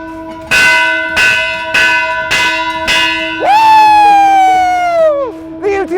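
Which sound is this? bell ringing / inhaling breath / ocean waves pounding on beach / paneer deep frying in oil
bell ringing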